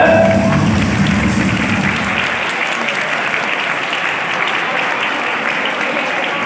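Group clapping during a youth academy activity session, a loud, dense burst of many hands at first that settles into steady applause, with a voice briefly heard near the start.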